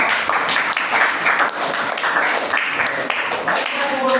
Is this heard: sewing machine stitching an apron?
no